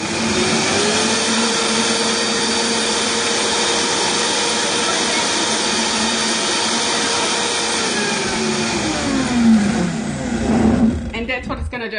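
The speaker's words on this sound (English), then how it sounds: "It's going to be hard work for the blender, even for a Vitamix." A Vitamix blender making soft serve ice cream runs loud and steady with a high whirring drone, then strains and drops in pitch near the end as the mixture thickens.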